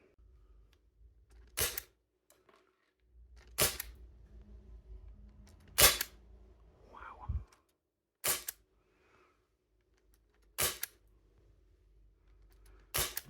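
A KJW MK1 airsoft carbine fires six sharp, close single shots spaced a couple of seconds apart, with quiet handling noise between them and no talk.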